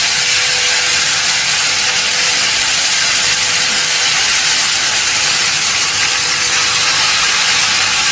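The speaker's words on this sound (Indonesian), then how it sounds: "setelah itu kita akan tumis sambalnya" Sambal chili paste sautéing in a hot pan in an Indonesian home kitchen, a loud, steady, close sizzle and hiss that runs unbroken throughout, with no talking.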